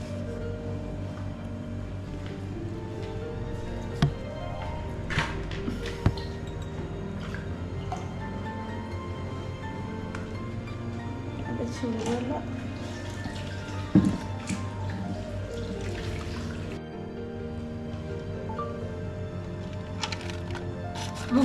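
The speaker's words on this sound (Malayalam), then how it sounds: "വെള്ളം ഒഴിച്ചാൽ മതി പയ്യ." Water being poured while an aquarium is cleaned, a steady trickling and dripping stream with brief splashes running throughout, fairly close and without talk.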